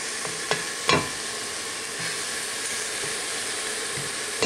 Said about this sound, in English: our carrots, our celery is all in here. I'm just cooking this down